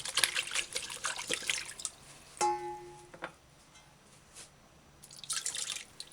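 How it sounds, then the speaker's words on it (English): Vegetables rinsed under fresh running tap water: splashy bursts of flow at the start and end, with a ringing drip and quiet trickling in between, no talking. "give your vegetables a final rinse under fresh running water"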